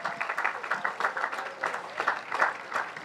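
A graduation audience claps steadily for a few seconds, a lively burst of applause with no voices standing out.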